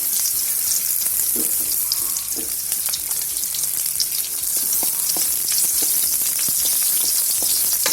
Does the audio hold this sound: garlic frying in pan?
yes